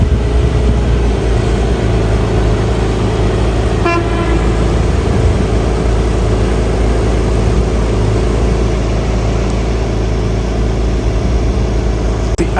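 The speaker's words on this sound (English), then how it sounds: "I can hear the sound coming out from that Porsche. I think that's Porsche Carrera." A Porsche Carrera drives past outside the Porsche museum in Stuttgart, its engine a loud, steady roar that fills the whole stretch, with a brief horn-like toot near the start.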